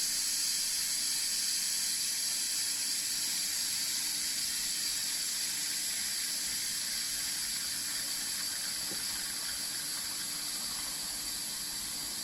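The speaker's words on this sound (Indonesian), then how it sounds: "Pastikan sebelum kita buka, kita kena buang uap yang ada di dalam." Steam hisses steadily out of a Noxxa pressure cooker as pressure is released before opening, a loud continuous broadband rush lasting the whole stretch with no talking.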